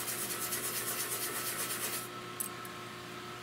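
Graphite powder being scrubbed into a surface, a steady rhythmic rubbing that runs for about two seconds, then stops, leaving a quiet background with a couple of faint ticks.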